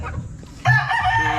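Chickens cluck close by, then a rooster lets out a loud crow partway through, with farmyard clucking continuing underneath.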